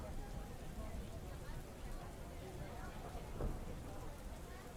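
Steady rain falls throughout, a constant broadband hiss under a quiet scene with no clear talk over it, a slightly brighter swell around the middle.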